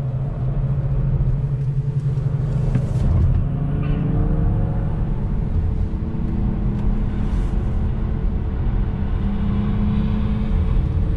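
A Tesla Model 3 Performance driven fast on a race track, heard from inside as a loud, steady roar of road and wind noise with a faint electric motor whine rising in pitch.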